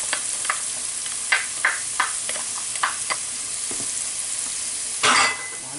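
Chopped garlic sizzles steadily in a hot pan for a beef stroganoff, with a continuous frying hiss broken by several light scraping stirs and a louder burst of sizzle near the end.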